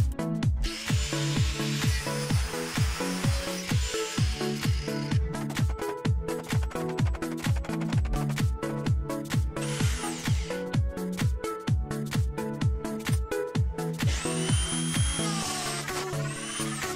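A power drill drives screws while aluminium bars are assembled for a quadruped robot, with repeated short bursts of whirring, rattling drilling, loud and close, with brief pauses between screws.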